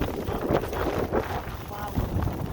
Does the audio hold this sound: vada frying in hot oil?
no